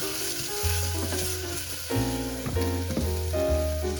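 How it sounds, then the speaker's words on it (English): Sliced onions and peppers fry across two pans for plant-based fajitas, giving a dense, steady sizzle up close, with a few clatters and bumps of cookware layered over it and no talking. "So as my onions are softening, I'm slicing up the peppers lengthways to add half to one pan and half to the other pan"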